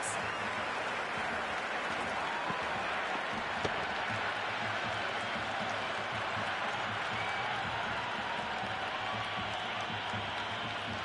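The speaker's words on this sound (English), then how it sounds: "The crowd is electric right now." Stadium crowd in the video game Cricket 26 roaring and applauding after a six, a continuous broad wash of cheering and clapping that holds steady throughout.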